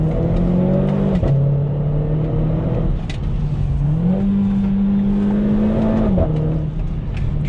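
Renault Clio 4 RS18 with an EDC six-speed gearbox pulling hard, its engine droning loud and near with a steady rising tone that steps through gear changes, while the exhaust breathes and whooshes behind it, no voices heard.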